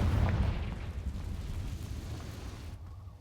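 A Confringo fire spell blast in the Hogwarts Legacy video game booms out as a loud, rumbling burst that decays over about three seconds before cutting off.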